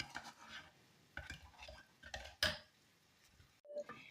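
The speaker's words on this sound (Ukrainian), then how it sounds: "Взяла вінчик, бо ложкою не хочу розвестися" Light metallic clinks and scraping of a whisk against a bowl, in short irregular bursts, fairly quiet and close.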